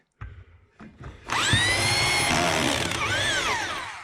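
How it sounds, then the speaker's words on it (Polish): A power drill with a hole saw cuts through a wall while fitting a central vacuum system. A few short bursts are followed by a long, loud, steady whine with a shifting pitch. "Bo otwornica jest, nie przejdzie na wylot."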